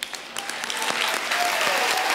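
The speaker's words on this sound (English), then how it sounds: "Let's have another round of applause for Lisa Bloom." An audience at a special gathering breaks into applause after a speech, building quickly from a few claps into a full, steady round of many hands that continues strongly to the end.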